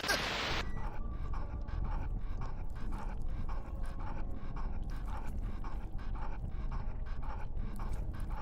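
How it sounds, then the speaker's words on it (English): A creature in the video game Morbid Catastrophe pants like a dog, with quick rhythmic breathy bursts repeating steadily after a brief noisy start. "He sounds like a doggy who just wants to play."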